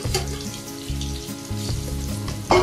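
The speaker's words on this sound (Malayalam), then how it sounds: "ഇതുകൊണ്ട് നമുക്ക് നല്ലപോലെ വറുത്തെടുക്കാം" Fish pieces deep frying in hot oil for fish pickle give a steady close sizzle and crackle, with a few soft clinks of a utensil and a louder bump at the end.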